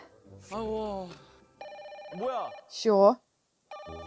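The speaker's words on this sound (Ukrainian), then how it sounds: "Дзвонить телефон." A telephone rings in short electronic bursts, interrupted by voices speaking and exclaiming close by between the rings.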